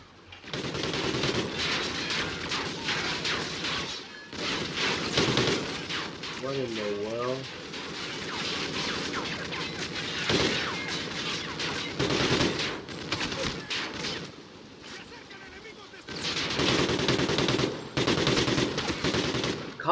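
Sustained automatic gunfire from shooting at an enemy in Call of Duty: Ghosts on Xbox One, loud rattling bursts with brief gaps, while a player talks over the shooting.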